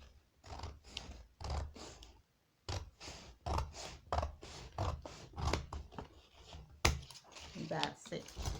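Scissors cutting fabric to shape a valance, a run of close, crisp snipping bursts in irregular rhythm with a short pause partway through.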